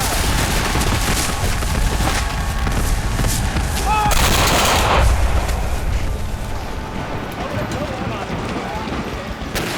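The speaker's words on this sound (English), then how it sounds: "Their intense fire thickens the air with whizzing metal." Civil War battle reenactment of rifle fire at Shiloh's Hornet's Nest, a loud dense roar of continuous gunfire and booming blasts filling the scene, with a narrator's voice running over it.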